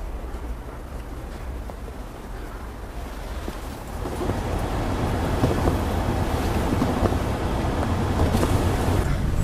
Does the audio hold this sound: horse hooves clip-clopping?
no